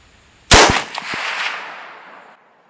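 A single loud .350 Legend rifle shot rings out up close, followed by a long echoing decay rolling off across the range for about two seconds.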